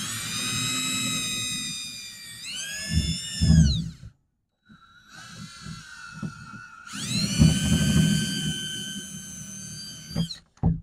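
A power drill driving screws into a wooden deer feeder, two long whining bursts with a rising-then-falling pitch separated by a short pause, close and loud, with no talk.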